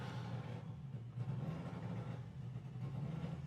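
A Volkswagen Beetle drag car at the Santa Pod Bug Jam eliminations holds a steady, low engine rumble before staging, continuous and fairly close, with no voices over it.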